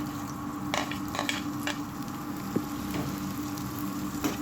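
Chopped onion frying with garlic and ginger for egg bhurji gives off a steady sizzle, with several brief scraping stirs.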